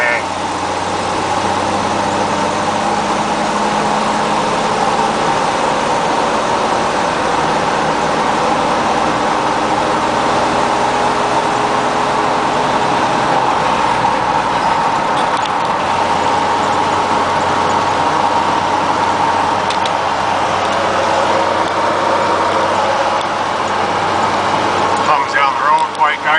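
A Chevy K30 truck with a swapped-in 4.3 engine hums steadily while driving, a constant broadband drone of engine and road noise that stays even and close throughout.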